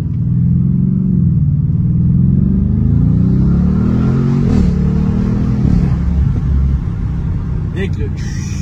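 A tuned Audi RS7 with modified intake and high- and low-pressure fuel pumps revs up and down, its loud, close engine note climbing and falling in several sweeps before settling.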